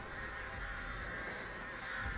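Crows cawing in the Dead by Daylight horror game, a steady wash of bird calls blended into dense in-game ambience, fairly loud and continuous with no talking.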